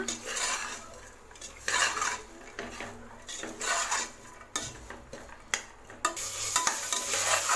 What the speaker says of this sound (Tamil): பாருங்கள் பட்டாணி நான் நல்லா வதக்கி விட்டுட்டேன்